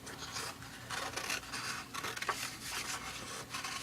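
Scissors cutting a drawn house shape out of a journal page, giving soft, quiet scraping snips in short irregular strokes, close by, with no talk.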